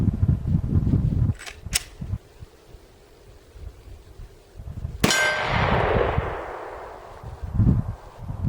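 A pistol round strikes a Patriot Armor level 3 steel plate downrange, a sharp metallic clang with ringing decay, preceded by two brief high pings and surrounded by outdoor rustle; no talking.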